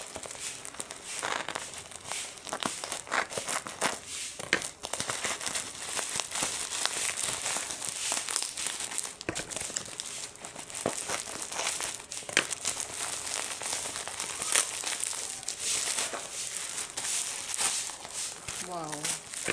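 Perfume parcel from an online shop being unwrapped, with continuous plastic crinkling and tearing close by through the whole stretch, light handling thumps, and a voice talking at moments.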